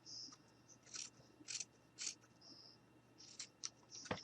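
Scissors snipping through pipe cleaner, a series of short, quiet, close-up cuts spaced irregularly, heard alone.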